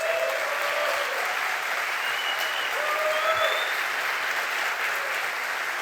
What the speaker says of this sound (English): So I want to give a big round of applause to Facundo, Josefina, and everybody that organized this.